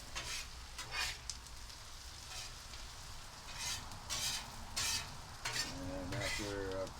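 Breakfast food frying on a greasy griddle in plenty of oil, a soft continuous sizzle with bursts of spatula scraping and metal clatter, fairly quiet and without talk.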